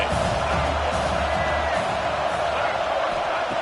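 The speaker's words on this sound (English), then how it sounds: "listen to this crowd noise. This stadium is vibrating" A dense roar from a packed college football stadium at LSU, a continuous broad wash of crowd noise, loud and sustained throughout.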